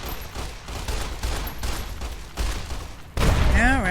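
Gunfire from the video game Fallout New Vegas comes as a rapid, loud fusillade of overlapping shots. The firing ends abruptly and a tonal, wavering game sound follows.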